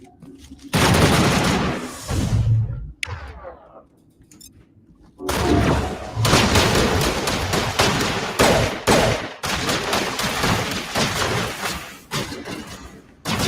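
Rapid bursts of video game gunfire, loud and close, crackle across most of the stretch, with a brief lull near the start before the shooting resumes in dense volleys.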